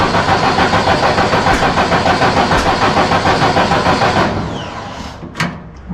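A 1972 VW Baja Bug engine starts up and runs with a loud, steady, pulsing rumble, then cuts off about two-thirds through. A quieter stretch follows, broken by a brief faint knock.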